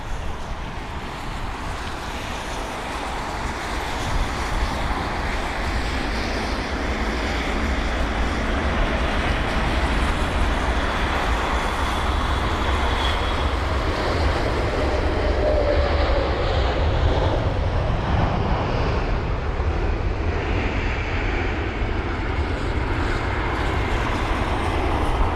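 An American Airlines jet arriving from Dallas lands at London Heathrow in stormy weather, a continuous loud roar of engines and wind that swells gradually over about twenty-five seconds.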